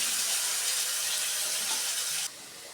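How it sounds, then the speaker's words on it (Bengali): Potatoes frying in hot oil in a pan after fish: a dense, bright sizzling hiss, loud and steady, that suddenly drops to a softer sizzle near the end, with no voices. "এবার এই তেলের মধ্যে আমি আলুগুলো ভেজে নেব।"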